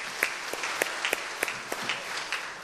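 A church congregation applauds at a Korean Wednesday worship service, steady moderate clapping from many hands with a few sharper claps standing out, heard at a distance throughout.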